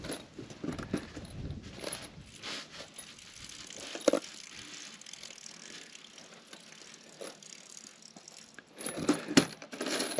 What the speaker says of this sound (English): I got to get the screws in here. I forgot to put these screws away last night.